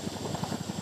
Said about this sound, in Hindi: ये नाइट ऑपरेशन की इंडियन एयरफोर्स के चिनूक हेलीकॉप्टर्स